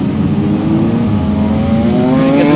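Great Lakes Legends race cars circle the Grand Bend Speedway short track in Ontario, engines humming steadily nearby and climbing in pitch as they accelerate.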